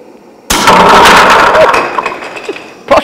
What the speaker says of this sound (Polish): Armata wystrzeliła.